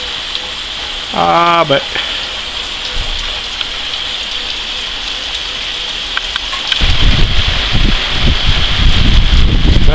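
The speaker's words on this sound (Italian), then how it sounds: "se non piove di suo, faccio piovere di mio" Hand-sprinkled water rains down onto garden plants as artificial rain, a steady broadband patter of droplets that grows louder and denser in the second half, with a brief voice early on.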